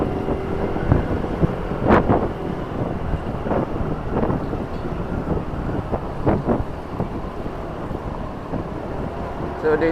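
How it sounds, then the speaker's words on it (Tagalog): Strong wind buffets the microphone of a Rusi motorcycle rider in Duma city, a constant rough rumble, with gusty thumps and scattered bumps breaking through. "lakas ng hangin"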